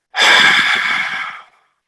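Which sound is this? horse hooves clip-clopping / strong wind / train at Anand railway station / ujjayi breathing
ujjayi breathing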